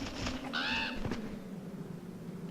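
A crow caws in Resident Evil 3, one harsh, raspy call standing out over a murky, low ambient rumble, fairly faint and somewhat distant, followed by a dull thud.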